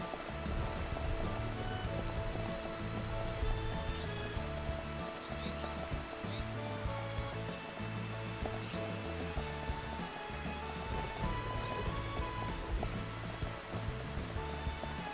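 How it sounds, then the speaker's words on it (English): Steady rain hisses across an open area of Colony 6 in Xenoblade Chronicles: Definitive Edition at night, a continuous wash of patter layered with low game ambience and occasional faint high chirps, with no one speaking. "Is it because it's raining?"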